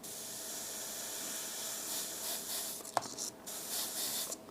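An airbrush sprays paint over stripped wire bent into a hair-shaped stencil for a monochrome portrait, giving a soft continuous hiss in short pulsing bursts with a small click partway through.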